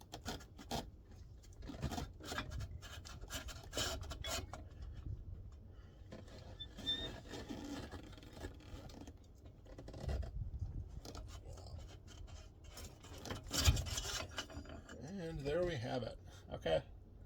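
A long axle bolt slides out of the wheel of a 2023 KLR650 motorcycle during a tire change, giving scraping, rasping metal rubs and a sharp clank near the end.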